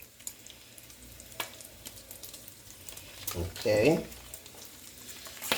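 Butter sizzles in a hot pan while garlic butter spareribs cook, a steady crackling fry with a brief louder stir or splatter burst near the end and one short spoken word over it.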